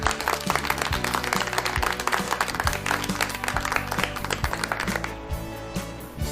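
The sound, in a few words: round of applause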